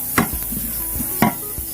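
Spoon stirring garam masala into a thick masala in a pan for Kerala-style kothu chapathi, giving two distinct scraping strokes over a faint background sizzle, close and fairly quiet.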